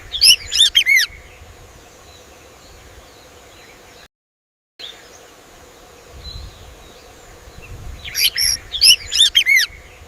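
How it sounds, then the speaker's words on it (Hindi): A bulbul sings bright, quick chirping phrases at the start and again near the end, clear and fairly close over a soft ambient background, with no talk. "जब तक बुलबुल गा रही है"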